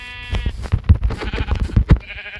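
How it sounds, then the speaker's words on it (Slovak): Minecraft sheep bleat in a rapid, quavering run of close, loud cries, standing alone with no talk. "Ovca. Yes, ovca."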